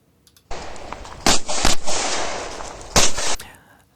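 Several sharp pistol shots ring out during a USPSA practical shooting match stage, loud and close, with a dense burst near the start and another pair a little later over steady background noise.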